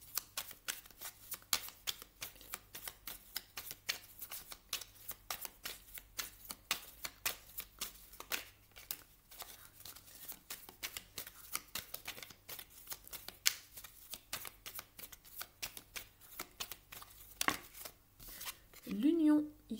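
Tarot cards being shuffled over and over, a quick, continuous stream of crisp flicks and riffles close by, quiet overall, with a brief vocal sound at the very end.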